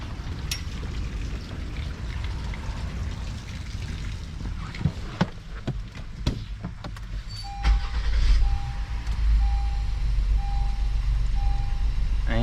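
A Honda V6 engine cranks and catches on startup, then settles into a steady low idle rumble with a faint continuous tone above it, following a few clicks and knocks.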